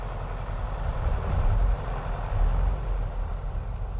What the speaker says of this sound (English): Really lovely, rich sound from those engines.